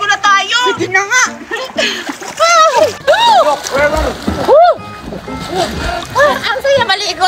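Water splashing and sloshing as people bathe in a swimming pool, continuous and close, mostly under loud, lively talking voices throughout.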